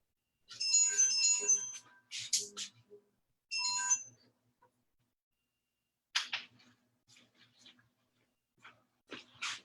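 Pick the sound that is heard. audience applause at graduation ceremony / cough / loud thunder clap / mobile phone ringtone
mobile phone ringtone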